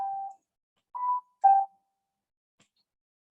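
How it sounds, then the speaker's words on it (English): Short electronic chime of a school bell, three separate tones ringing with pauses between them, clear and alone in otherwise near-silent surroundings. "Okay, the school bell."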